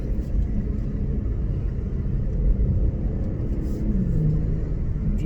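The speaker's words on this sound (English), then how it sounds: "Let's use the paddle shifters. Downshift." A 2020 Infiniti Q50 Red Sport 400 AWD sedan's engine rumbles during a paddle-shift downshift. A loud, steady low drone is heard from inside the cabin with no talking.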